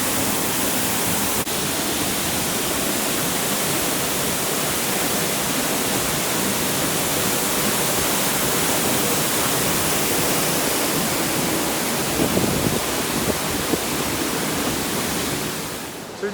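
A massive waterfall near Banlung in Ratanakiri, Cambodia roars loudly as a dense, unbroken wash of falling water, heard close up for the whole stretch with no voices.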